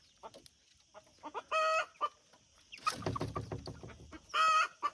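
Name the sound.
hen clucking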